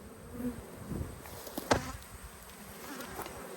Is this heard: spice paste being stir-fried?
no